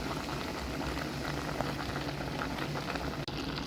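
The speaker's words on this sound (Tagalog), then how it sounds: "Yung sibuyas at saka bawang kasama ipiprito." Onion and garlic frying with leftover rice for fried rice, a dense continuous bubbling sizzle held at a steady, moderately close level without pauses or voices.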